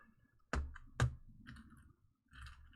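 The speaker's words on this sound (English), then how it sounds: "I've got blue switches on my keyboard and they're kind of loud." A few sharp key clicks from a mechanical keyboard with blue switches, two distinct loud strikes close together followed by fainter taps, with no talk.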